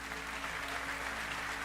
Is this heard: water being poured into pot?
no